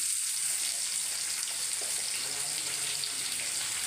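Small shallots drop into hot oil for a beef curry and hiss in a constant, even, close sizzle that holds for a few seconds, with no voice over it.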